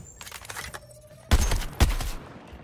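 Two sharp, loud bursts of gunfire crack out in Suicide Squad: Kill the Justice League, following quieter scattered shots and a brief tone.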